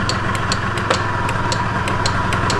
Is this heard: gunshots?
no